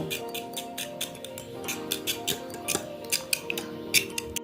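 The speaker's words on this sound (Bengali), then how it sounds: "তারপর ডিমটা খুব ভালো করে ফেটিয়ে নেব।" Eggs seasoned with salt and black pepper being beaten briskly in a bowl, a quick run of close, sharp clicking taps from the whisk or fork against the bowl, growing a little louder toward the end.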